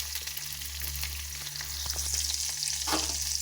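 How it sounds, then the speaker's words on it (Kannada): Onions fry in a pan with mustard seeds and curry leaves, a continuous close sizzle with crackles and stirring scrapes over a low steady hum. "ಈರುಳ್ಳಿ ಚೆನ್ನಾಗಿ ಫ್ರೈ ಆಗೋವರೆಗೂ ಬೇಯಿಸ್ಕೋಬೇಕು."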